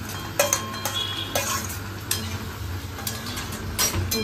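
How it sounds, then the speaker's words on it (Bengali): Jackfruit curry cooking in a pan at home, stirred with a utensil that scrapes and clinks at irregular intervals over a steady low sizzle, close and moderately loud, with no talking. "মা এখন এঁচোড়ের তরকারি রান্না করছে।"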